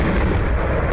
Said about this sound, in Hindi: पहला धमाका, दूसरा धमाका, तीसरा धमाका,